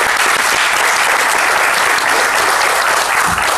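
A dense, loud wash of audience applause after a presentation at a Hyundai Tucson first drive event, steady and continuous throughout without any letup.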